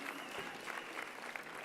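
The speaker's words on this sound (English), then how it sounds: "Shall you give yourself a round of applause again?" A graduation ceremony audience applauds in a large hall, a steady wash of many hands clapping at moderate distance, continuous for the short stretch with no clear voices above it.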